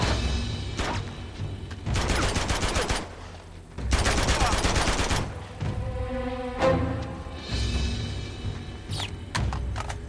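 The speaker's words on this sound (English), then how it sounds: "AK-47 does what it should do." Rapid AK-47 automatic gunfire in the video game Uncharted 2, coming in two sustained bursts with a few single shots and mechanical clicks around them, loud and close, with no talk over it.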